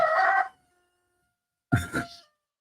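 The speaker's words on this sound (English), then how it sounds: "Oh my God, rooster." A rooster crows loudly nearby, one harmonic call fading out by the first half-second, followed after a pause by a second short, ragged crow, heard outdoors near a lake geoglyph site.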